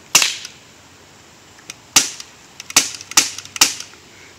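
A Crosman 1911 CO2 BB pistol fires with its CO2 running low, giving six or so sharp snapping cracks in an uneven series, close and loud, with the later shots bunched more tightly together.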